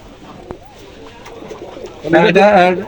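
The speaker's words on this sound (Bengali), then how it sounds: "এই দেখেন কবুতর।" Pakistani highflyer teddy pigeons coo nearby, with soft murmuring calls building into a louder, sustained burst of cooing near the end over faint background noise.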